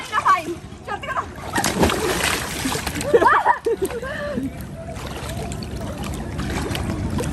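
River water splashing and sloshing as a person dunks in, with steady flowing water throughout and people talking and calling out over it.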